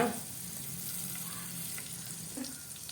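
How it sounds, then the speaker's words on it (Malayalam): Mustard seeds sizzle faintly in hot coconut oil at the start of a fish curry, a soft, steady crackle throughout. "വെളിച്ചെണ്ണ ഒഴിക്കുക കടുക് ഇടുക"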